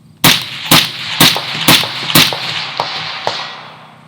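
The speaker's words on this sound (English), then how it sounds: "the gunshots themselves are covering up that sound coming back" Five loud, evenly spaced rifle shots from an SPR rifle fired at roughly half-second intervals, each a sharp crack with echo trailing off, followed by two fainter reports in the distance.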